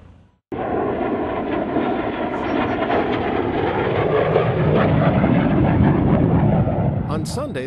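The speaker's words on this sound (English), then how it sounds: "the highlight of the event was a 1960s-era Russian MiG-17F jet fighter" A 1960s-era Russian MiG-17F jet fighter flies at an air show, its loud, steady engine roar swelling slightly as it passes and holding continuously for several seconds after a brief quiet start.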